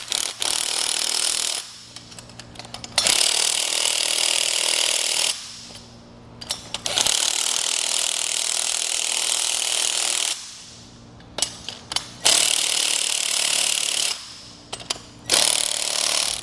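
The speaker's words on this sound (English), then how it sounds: "So we'll just work our way around with a 9/16 socket." A 9/16 socket works around the U-bolts on a Malone MegaSport heavy two-tier boat trailer, heard as long stretches of loud, close, continuous mechanical rubbing and grinding broken by short pauses, with no talk.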